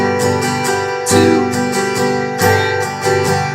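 Acoustic guitar strums the chorus chords of a song in a steady rhythmic pattern, loud and close, with bright repeated strokes and a chord change partway through.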